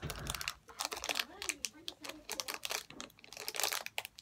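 A trading card booster pack wrapper crinkles and rustles up close in quick, uneven bursts as someone struggles to tear it open, with speech partly overlapping the crackling.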